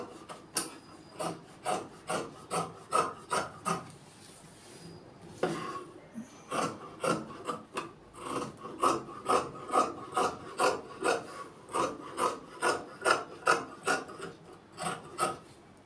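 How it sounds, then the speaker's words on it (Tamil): Scissors cut through trouser fabric in a steady run of rhythmic rasping snips, close and fairly quiet, with a brief pause partway through. "ரெண்டு பேண்டே ஒரே கஸ்டமருக்கு வெட்டுறேன்."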